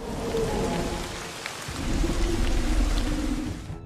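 Heavy rain hammers down steadily, with a deep thunder rumble rolling underneath in a thunderstorm, loud and continuous from start to finish.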